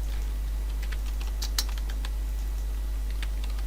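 Quick, close clicks on a computer keyboard as a place name is typed, an irregular burst of keystrokes over a faint steady hum, with no talking.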